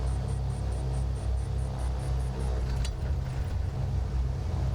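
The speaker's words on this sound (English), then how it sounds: "And we've got a good start on the right engine." The right engine of a Chancellor twin-engine aircraft in Microsoft Flight Simulator 2020 runs with a loud, steady low rumble just after starting. A faint rhythmic high ticking repeats over the drone, and a brief click sounds midway.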